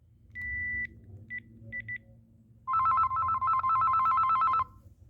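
A Panasonic KX-T2000 phone gives a few short electronic beeps, then a loud warbling ring burst of about two seconds, close and clear over a faint low hum.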